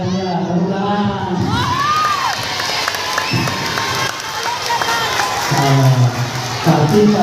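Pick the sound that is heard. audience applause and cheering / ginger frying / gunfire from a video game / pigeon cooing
audience applause and cheering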